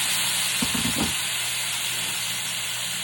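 A NY strip steak searing in a hot pan after water is added, giving a loud, steady steaming hiss and sizzle with a few sputtering bursts early on.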